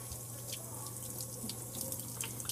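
A paint brush is rinsed under a running tap, water splashing steadily into a sink with a low hum beneath and brief brighter splatters as the bristles move through the stream, close and fairly loud with no talking.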